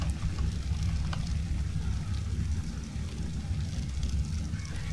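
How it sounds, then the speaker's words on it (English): Steady rain falls in the video game Ark Survival Evolved on the modded Amissa map, a constant dense hiss over a low rumble with no breaks. "but it is raining."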